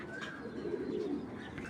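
A club-tagged 2021 racing pigeon at a breeder's loft makes a low, throaty coo that swells in the middle of a short, quiet stretch.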